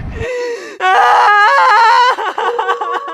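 A boy screams loudly and at length as his mother drags him off. The wailing cry rises sharply, holds, then breaks into shorter sobbing cries near the microphone.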